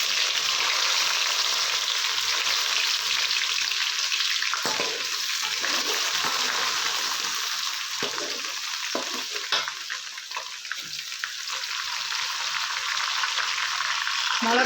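Urad and chana dal with ginger sauté in hot oil in a pan, a loud, dense sizzle with stirring scrapes that dips and rises as the pan is worked, with no voices.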